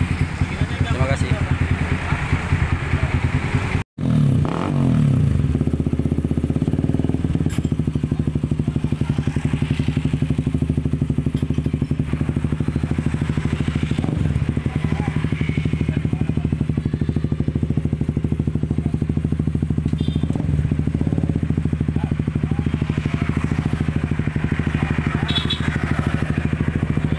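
A motorcycle idles and revs through an F2racing CL.LONG stainless steel SS304 exhaust, giving a steady, deep bassy rumble close by with occasional throttle swells, and voices talk over it.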